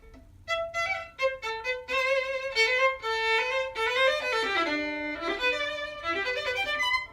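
A lively, light-footed scherzo melody on violin, quick detached notes and short runs, with a soft accompaniment underneath.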